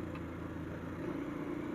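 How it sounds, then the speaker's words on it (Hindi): A police car passes on a road near a motorbike rider, its engine a steady low mid-pitched hum that swells slightly toward the end, with constant traffic rumble underneath. "आई सामने पुलिस की गाड़ी जा रही है"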